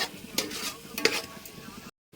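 A spoon stirs coriander powder, cumin and garam masala into sizzling oil and onions for a paneer dum biryani masala, giving two or three brief scraping strokes over a soft frying hiss before a sudden cut.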